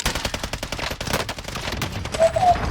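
Close automatic gunfire in Call of Duty: Warzone rattles in a rapid, continuous run of shots throughout, loud and with no talking over it.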